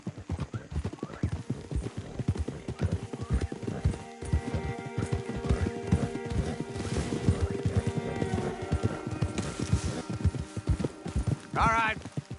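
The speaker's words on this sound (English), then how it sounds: "Don't want the horses clopping around outside the window." Horses clop along in the Red Dead Redemption 2 video game, hooves beating in a quick uneven rhythm close by, with a whinny near the end and speech over parts of it.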